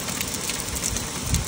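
Hail and rain pour down steadily in Riyadh, Saudi Arabia, a dense, even patter of drops and pellets striking surfaces close by, with no voices.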